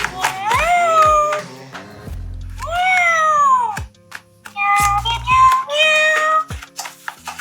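A toy cat meows repeatedly in a series of varied, high-pitched electronic mews with short gaps, loud and close.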